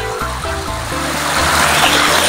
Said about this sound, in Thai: มันเหมือนน้ำตกเลยจริง ๆ